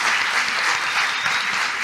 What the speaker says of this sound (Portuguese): Vamos aplaudir essas 3 mulheres incríveis.